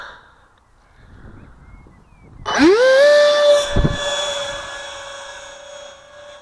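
An RC sport jet model spools up sharply from quiet, then gives a loud, rising whine that settles into a steady high-pitched fan drone as it takes off and flies.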